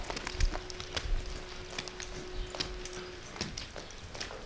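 Hooves clip-clop in a steady posting-trot rhythm on firm ground, fairly close, with light ambient noise and no talking.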